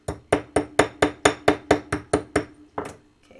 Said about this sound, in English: it would be a little bit more elegant, we'll say, to use a chasing hammer